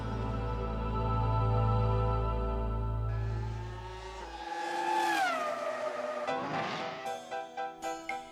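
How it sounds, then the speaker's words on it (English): Toyota Formula One race car engine roaring close up, a sustained high-revving howl that rises and falls with gear changes, followed by sharp pulsing blips near the end. "This is the F1 car fielded by Toyota."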